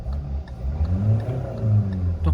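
A 2021 Hyundai Venue engine revving in neutral, a steady mid-pitched hum rising and falling in a few smooth rev swells, close and clear with no talk.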